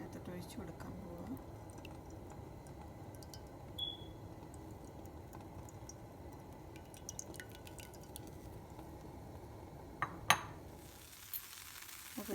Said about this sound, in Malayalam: ഞാനിനി ഇത് അതിനകത്തോട്ട് ഒഴിച്ച് കൊടുക്കാൻ പോവാം